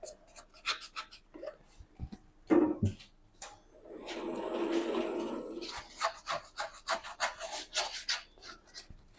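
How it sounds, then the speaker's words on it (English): A scraper working down the sides of a spiral mixer bowl full of sourdough: close, quiet scraping and rubbing strokes in short irregular bursts, with a longer smoother drag partway through. "And we're just going to scrape down the sides."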